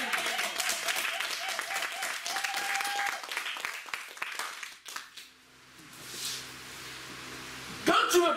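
A church congregation applauds and cheers for the Lord in a dense burst of clapping and voices that thins out midway. Quieter crowd murmur and a lone voice follow.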